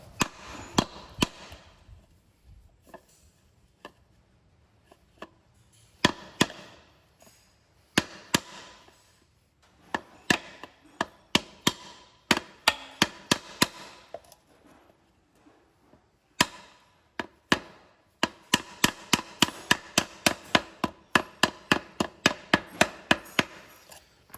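Sharp knocks tap a torque converter seal into a 1995 Ford F150 using a length of 2.5 inch conduit, coming in irregular bursts that build into rapid runs of close, loud hits.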